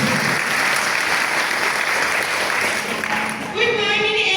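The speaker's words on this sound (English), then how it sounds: "Let's hear the claps." A keynote-address audience claps in dense, sustained applause, loud and even throughout, before a voice rises out of it near the end.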